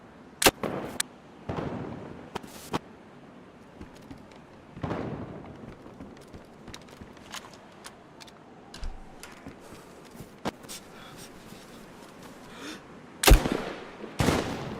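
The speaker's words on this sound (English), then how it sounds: "I shot this guy with the AK." An AK rifle fires in DayZ: a handful of sharp, isolated cracks, the loudest near the start and end, scattered over a low background with lighter clicking between them.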